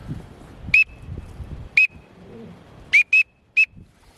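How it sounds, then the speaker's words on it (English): Several short, high whistled peeps from a duck call, one near 0.8 s, one near 1.8 s, then three in quick succession, over quiet background noise. "Also a teal whistle."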